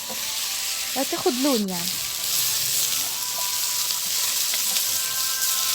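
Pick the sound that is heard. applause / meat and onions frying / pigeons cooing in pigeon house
meat and onions frying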